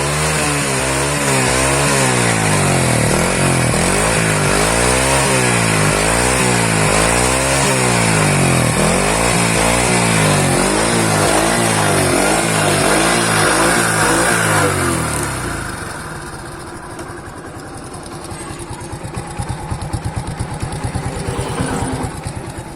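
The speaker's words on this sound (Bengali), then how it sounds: "বাইকটি স্টার্ট করে একটু সাউন্ড শোনাবো আপনাদের" A small Dayang 80cc motorcycle engine starts and revs repeatedly, loud and close, rising and falling in pitch, then drops to a rough idle.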